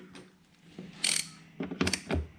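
Tools working on motorbike plastics, with short close mechanical clicks and ratcheting, a brief bright scrape, then a few louder clunks over a couple of seconds.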